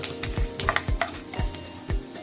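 Curry leaves sizzle in hot oil in a pan, where browned gravy is being cooked for pineapple kadhi. A bright, steady hiss is broken by rhythmic stirring strokes roughly every half second.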